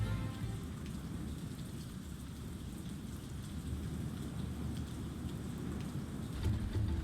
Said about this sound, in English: And it's also raining in the game,